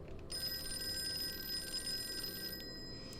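A telephone rings inside the Call of Cthulhu video game, a steady electronic trill of bright repeating tones that holds for about three seconds over a low, murky ambient background, with no voices.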